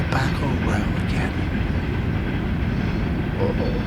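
A train passes through a riverside city area with Tobacco Row nearby, a steady broad rumble of rolling railcars heard from a distance, continuous throughout, with faint wind noise over it.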